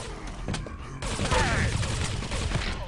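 Rapid machine gun fire rattles in a competitive online shooter match, a dense burst of gunfire that starts abruptly and continues loud and sustained amid game effects.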